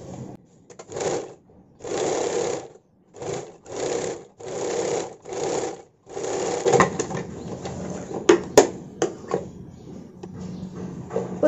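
Sewing machine stitching a sleeveless blouse, running in several short bursts of rapid stitching separated by brief pauses, then a stretch of softer handling clicks and rustling of fabric close by.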